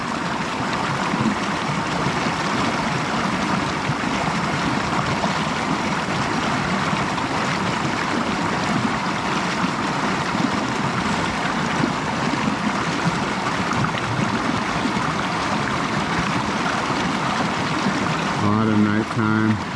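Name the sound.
creek water flowing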